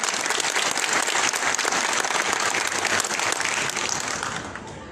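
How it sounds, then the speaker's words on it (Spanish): Loud, dense applause from the audience at a swearing-in ceremony in San Andrés Huaxpaltepec, Oaxaca, greeting a priest, sustained and steady before fading slightly at the end. "para quien pido fuertes y nutridos aplausos"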